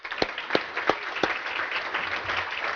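Luncheon audience at a chamber of commerce meeting applauds to thank a credit union sponsor, a few sharp near claps at first, then a dense, steady patter of clapping from many hands throughout.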